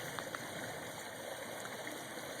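A river rushes in a continuous broadband hiss, steady and unbroken throughout, fairly faint, with no voices.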